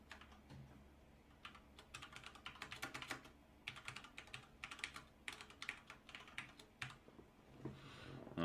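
Quiet, close computer keyboard typing while someone enters code, coming in irregular bursts of rapid key clicks separated by short pauses.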